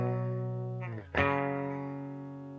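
Clean, unboosted electric guitar through hot pickups rings out as a sustained chord, briefly dips, then is re-struck sharply about halfway through and left to decay slowly, with no talking.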